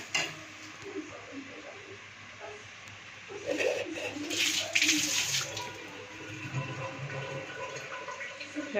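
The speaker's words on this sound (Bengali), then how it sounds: "এখন দিয়ে দিলাম একটুখানি জল।" Water poured into a cooking pot in a home kitchen, a steady splashing rush that swells for a few seconds in the middle and then settles into a softer trickle against low room noise.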